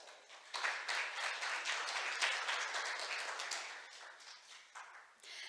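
A crowd applauding steadily for several seconds at a science and technology forum in Seoul, a dense patter of many hands clapping at moderate distance, tapering off toward the end.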